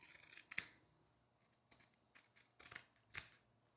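Pinking scissors cutting fabric along a drawn line while sewing a small stuffed toy dog, a series of close, sharp snipping crunches at an uneven rhythm, quiet and alone.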